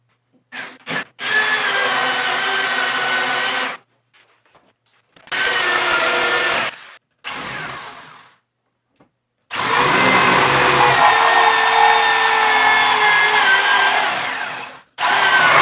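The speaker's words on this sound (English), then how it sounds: "I'm going to need a 2 1/8 inch hole saw." Power drill boring a hole with a 2 1/8 inch hole saw for a skoolie entry door, loud close bursts of whirring cutting in three long runs separated by short pauses and brief blips.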